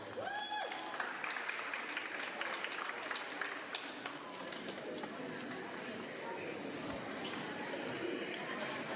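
Audience applause at a graduation ceremony, a sustained patter of many hands clapping heard from a distance and fairly faint, with a voice speaking briefly at the start.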